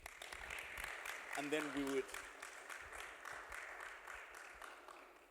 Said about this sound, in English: Round of applause for the panel, please.